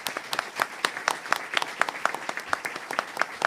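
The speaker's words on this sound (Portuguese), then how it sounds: "Salva de palmas para elas também." An audience at a ceremony applauds some girls from a Rio de Janeiro community, giving several seconds of steady, dense clapping from many hands at moderate loudness.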